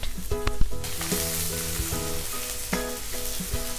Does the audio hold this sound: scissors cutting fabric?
no